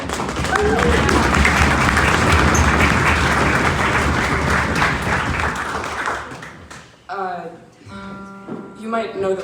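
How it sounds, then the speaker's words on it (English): A ceilidh audience gives a loud round of applause for about six seconds, dense clapping that tapers off before a voice starts talking near the end. "Yeah, round of applause for that."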